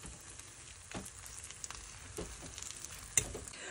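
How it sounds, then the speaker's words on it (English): Meat covered with whisked egg sizzles steadily in a frying pan for a pizza omelette, a soft continuous crackle with a few brighter pops and scrapes, close and moderately quiet, with no voices. "So while that's cooking in the pan,"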